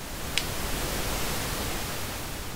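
Synthesized ocean wave sound effect built in Soundforge, a steady broadband hiss like surf wash with no distinct breaks, fairly quiet and alone.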